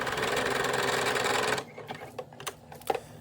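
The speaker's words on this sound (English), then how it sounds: "and then from there start stitching" A sewing machine stitches patches onto a custom jersey in a fast, steady whir for about a second and a half, then stops, leaving a few soft clicks and handling noises.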